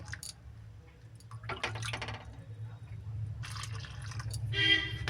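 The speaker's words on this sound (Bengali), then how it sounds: "দুই বাটি কিন্তু জল দিয়ে দিলাম" Warm water poured into flour in a bowl for saj pitha dough, trickling and splashing close by in a few short bursts over a low steady background hum.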